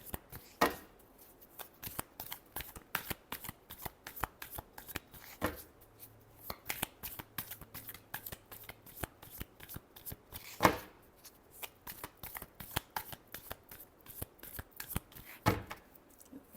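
Tarot cards shuffled by hand in a steady run of crisp riffling flutters and soft slaps, close and fairly quiet, with no talking.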